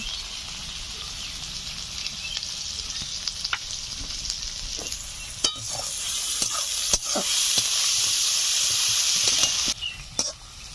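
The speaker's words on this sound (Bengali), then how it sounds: "পেঁয়াজগুলো লালচে করে ভেজে নিয়েছি দেখুন" Chopped onions sizzle steadily with salt in a hot pan for a Bengali village-style chicken curry, a bright continuous frying hiss broken by a few sharp crackles and stirring clicks, growing louder midway.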